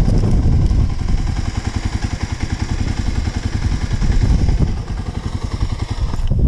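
A dirt bike engine labors while riding through a soft sandpit, a loud, close, continuous throbbing drone with steady pulsing firing and slight surges in revs, heard without speech.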